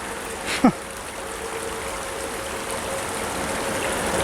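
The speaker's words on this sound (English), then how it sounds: "This creek got flowing pretty hard recently." A creek running high and fast after recent flow gives a steady rushing wash of water, with one brief sharper splash or knock near the start.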